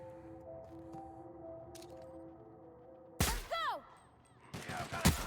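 Gunfire erupts in The Outer Worlds, two loud, sharp bursts with ringing, whining tails breaking through a quiet hum of background ambience, the second cluster rougher and more crackling.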